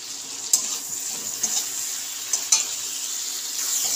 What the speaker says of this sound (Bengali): মশলাটা আমি ভালো করে ভেজে নেব।